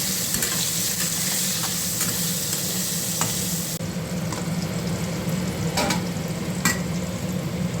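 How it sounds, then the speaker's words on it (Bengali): Potatoes frying in hot oil with turmeric and salt while being stirred in the pan, giving a steady close sizzle with occasional scraping, and no talking. "একটু হলুদ নুন দিয়ে ভেজে নেবো আলুটা।"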